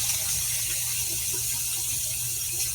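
Water poured from a container into a pot holding ribs and potatoes, a steady close splashing rush filling the pot without pause.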